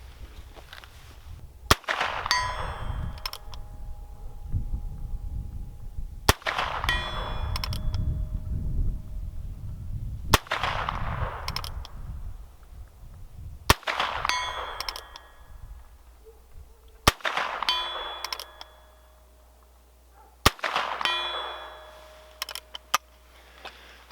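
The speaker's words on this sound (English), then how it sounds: "that was 22 long rifle, 100-yard shots" Six sharp gunshots from a Heritage Rough Rider Rancher .22 LR revolver fired at a 100-yard target, spaced a few seconds apart, each a crisp crack with brief ring, over steady outdoor background.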